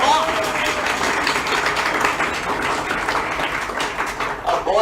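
Audience clapping at an exam-preparation talk, a continuous blur of many hands heard alongside a voice speaking, fairly loud and sustained with small fluctuations throughout.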